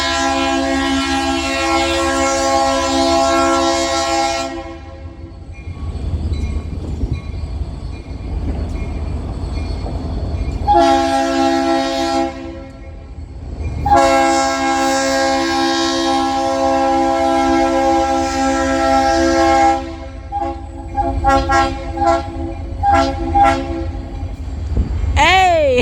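A northbound KCS freight train rolls past near Baton Rouge, Louisiana, sounding several long, loud blasts of its multi-tone horn over a continuous rumble of wheels and cars, with a final horn pulse at the end.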